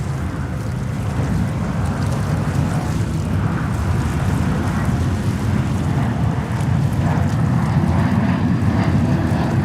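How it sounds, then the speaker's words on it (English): An Air India Boeing 777 takes off from JFK Airport in New York, its jet engines giving a steady, loud, broad roar through the whole stretch without breaks or speech. "And then we have Air India departing next 777"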